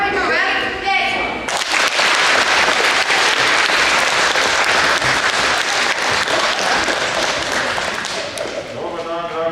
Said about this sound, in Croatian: Svi ga pozdravimo velikim pljeskom.